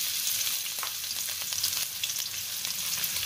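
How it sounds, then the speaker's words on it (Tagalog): Chopped onion sizzling and crackling steadily in hot vegetable oil in a pan, a loud, continuous fry with no voices. "Ngayon mainit na, ilagay na natin yung ating onion."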